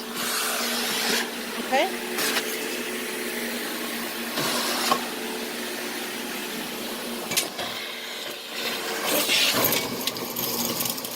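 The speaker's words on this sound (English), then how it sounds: "a commercial grade vacuum is gonna do more" A commercial-grade vacuum cleaner drones steadily while working over a mold-stained shower, a continuous broadband hum with brief bumps and knocks, and a voice speaks briefly over it.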